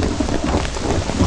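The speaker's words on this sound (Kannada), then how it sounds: "ಏನೋ ಮಳೆ ಹಿಂಗಿಡ್ಕೊಂಡ್ಬಿಡ್ತು." In a Kannada film scene, heavy rain pours with thunder in a loud, dense, unbroken roar, close and alone.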